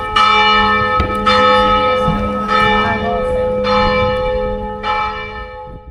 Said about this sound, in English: How many times is that bell gonna chime?